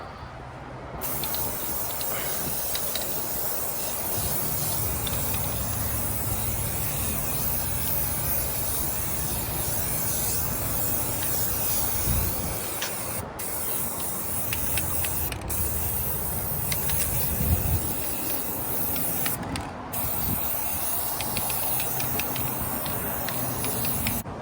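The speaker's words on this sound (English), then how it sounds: "I've lightly sprayed things that do need to be sprayed." Continuous spray coating of a 16 ft jon boat, a steady hiss of the sprayer with creaks and mechanical rattles, fairly close and unbroken for the whole stretch, no talk.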